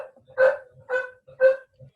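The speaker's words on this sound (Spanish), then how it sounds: "Ese es mi perro, se los presento." A pet dog named Darío barking at home, three or four short, sharp barks in a steady rhythm, close by with a quiet room behind.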